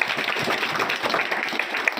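Loud, dense applause from a school audience for a joint second-place prize winner at Ramdev Public Senior Secondary School, a continuous burst of many hands clapping at once, with no speech.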